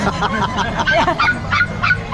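Chow Chow dogs bark and yip in a run of short, fairly loud repeated calls at a busy pet market, with crowd murmur and general noise underneath.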